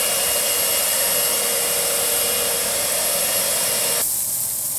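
An Ermator wet vacuum recycling water with Gelmaxx pours out a loud, steady rushing hiss of water that cuts off abruptly near the end, leaving a quieter hum, with no talk.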